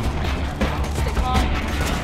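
Gunfire in the co-op shooter Borderlands 2, a dense, continuous burst of shots and explosive booms packed into a couple of seconds, loud and steady throughout with a faint trace of voices underneath.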